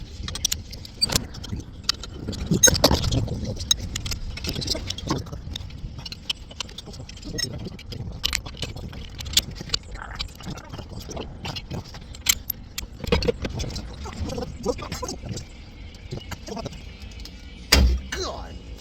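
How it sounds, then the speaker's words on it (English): Metallic clinks and scrapes of a wrench working loose a part on the exhaust of a turbocharged VW bus, scattered irregular taps close by over low handling noise. "let me go get the right wrench first"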